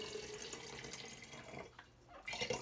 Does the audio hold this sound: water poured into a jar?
yes